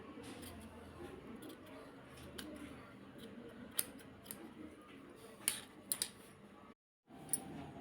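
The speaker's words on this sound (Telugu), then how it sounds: "అంతే పొడవు పెట్టి కట్ చేస్తున్నాను." Scissors cutting silk blouse fabric: faint, quiet snipping and soft handling noises with several sharp clicks of the blades, close up, then a brief silent break and a few more snips.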